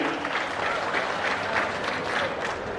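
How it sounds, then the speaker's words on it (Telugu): A large crowd at a police event on stage applauds loudly in congratulation, dense continuous clapping filling the whole stretch at an even, sustained level. "గట్టిగా చప్పట్లు కొట్టి అభినందించండి"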